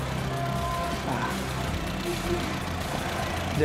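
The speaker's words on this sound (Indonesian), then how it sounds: "kita selanjutnya akan mengetesnya dengan menghidupkan mesin mobil ini" A used car's engine idling steadily just after being started, a continuous low rumble close by with no clear revving or changes in pitch.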